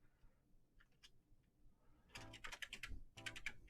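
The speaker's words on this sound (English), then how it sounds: "Just typing to you people in the chat." Typing on a computer keyboard. A few sparse key taps come first, then rapid clusters of clicky keystrokes at close range, with no talking.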